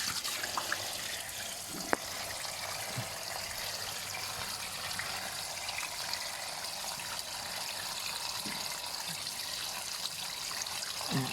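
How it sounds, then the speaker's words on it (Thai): Water drains out of a water tank during cleaning, a steady broadband rush and trickle that holds on throughout with a few small splashes. "น้ำเริ่มอ่อยละ กำลังอ่อนละ"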